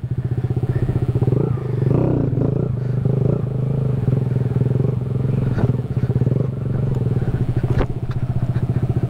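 A Kawasaki Z125 motorcycle engine runs rough and loud up close, chugging and faltering in an uneven idle as it stalls out, with no clear talk over it.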